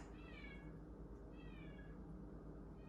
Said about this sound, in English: Oh, cat, give it a rest.